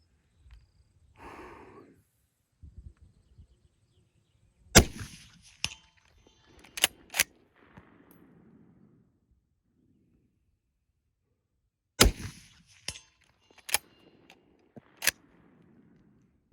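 A Swiss IG11 rifle in 7.5x55 worked between shots: sharp, loud cracks spaced apart, each followed by quick metallic clacks of the bolt cycling, with quiet gaps and faint breathing between.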